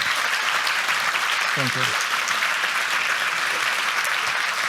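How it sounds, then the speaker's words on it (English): Audience applause at a stock-trading talk, a steady dense clatter of many hands filling the room, with someone briefly saying thanks over it. "Applause"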